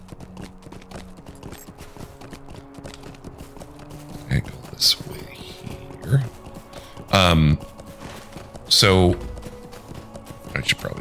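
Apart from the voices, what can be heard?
horse hooves galloping in the video game LotRO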